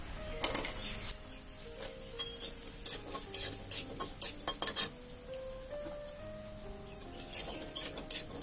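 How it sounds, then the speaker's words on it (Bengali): Dried lentil dumplings (bori) frying in hot oil, with a steady crackling sizzle and scattered sharp pops and ticks bursting through, close and fairly quiet, no voices. "এই তেলে ভাজি করে নেব।"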